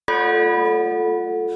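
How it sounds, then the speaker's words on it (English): A single church-style bell struck once, ringing out loud and close with a sustained, slowly decaying metallic hum and no voices. "You do not ring that bell, not for Michael Mann."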